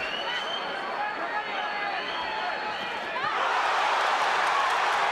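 Boxing arena crowd at the Pacquiao vs Morales fight roaring in reaction to hard blows, a dense, sustained swell of cheering and shouting that grows louder in the second half.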